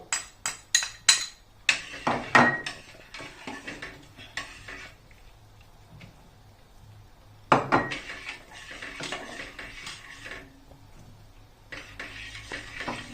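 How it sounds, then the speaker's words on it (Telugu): Jowar flour dough is mixed with hot water in a metal bowl, producing bursts of rapid clinking and scraping of a utensil against the vessel, with a quiet pause between active stretches. "ఇప్పుడు ఈ పిండి ఈ వేడి నీళ్ళని ఇలా కలిపేస్తున్నాను"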